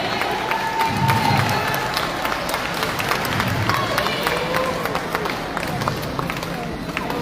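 An audience at a national science fair primary-school prize ceremony in the Virgin Islands claps and cheers for student winners. Sustained, dense applause mixes with shouts and crowd noise throughout, with a voice faintly heard over it.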